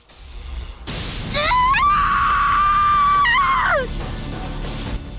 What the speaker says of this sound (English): The shrill scream pierces through blinding light